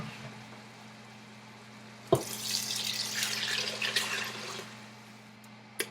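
Liquid poured into a pot to bring stock for a creamy vegan mushroom stroganoff up to 4 cups, a close splashing and trickling rush lasting a couple of seconds after a sharp clink, over a low background hum.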